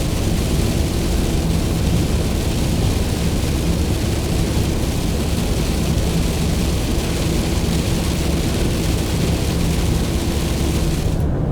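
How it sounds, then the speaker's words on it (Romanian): Heavy rain drums steadily on a van driving through a rain cloud on a hilly road in Sweden, with a constant loud wash of water and road roar and a low engine hum beneath it throughout, no voices. "Am intrat într-un nor de ploaie."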